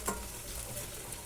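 Paneer pieces fry in ghee with a steady, close sizzle and a light stir, brief and moderately quiet.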